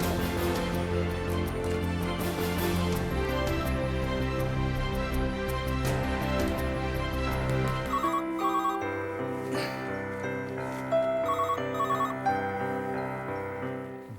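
A telephone rings repeatedly in a Hindi television drama scene, the ringing sitting over a dense musical score that thins out toward the end, with no speech.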